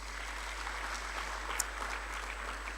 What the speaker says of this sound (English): Can you just clap hands for that?